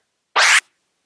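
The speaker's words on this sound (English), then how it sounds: "you close your fader to get a quick chirp sound like this" A single quick DJ chirp scratch on a turntable, made by closing the fader, a short bright burst of record noise that cuts off sharply, alone against silence.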